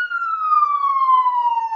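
Electronic ambulance siren from the baseball video game OOTP Baseball 18, a single loud, clean wailing tone that glides slowly downward in pitch, alone without other sounds.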